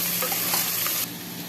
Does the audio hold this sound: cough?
no